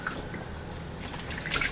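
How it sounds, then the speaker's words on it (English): A wool diaper soaker is pressed down into a basin of water, giving soft drips and small liquid sloshes, with a brief splashier burst near the end. "Right now I'm just pushing it into the water, making sure that the water is absorbing"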